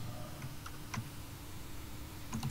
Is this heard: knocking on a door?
no